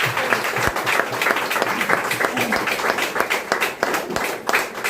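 Audience applause at a display wall celebration in Greater Noida, a dense and sustained crowd clapping that fills the whole stretch without a break, loud and close.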